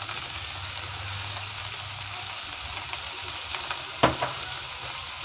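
Mushrooms fry with garlic powder and spices in a hot pan, a steady close sizzle with a brief clatter of stirring near the end, no talk.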